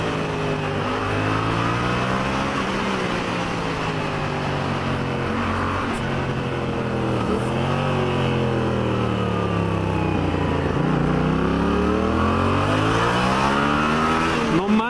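A Yamaha FZ-07 motorcycle being ridden, its engine revving up and down through repeated rising and falling sweeps, loud and close for the whole stretch, with wind noise and no talk.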